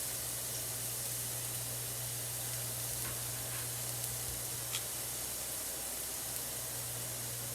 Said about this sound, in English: Now, I don't want the onions to get like brown, but I want them to get a little bit caramelized